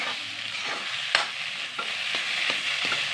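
Boiled potatoes and cauliflower fry with a steady sizzle in a pan while a spoon scrapes and stirs through them in repeated clinks and shuffles, close and alone without talk.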